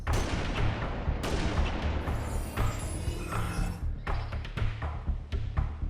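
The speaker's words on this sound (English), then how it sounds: "Ambivalent Theorem, can you do something about that sniper?" Gunfire in a video game, the sniper shots landing as sharp cracks and thumps with dense game noise behind them and no voices.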